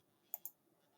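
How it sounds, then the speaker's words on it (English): A computer mouse button clicks twice in quick succession, crisp and close but quiet, with near silence around the clicks. "So I'm right clicking,"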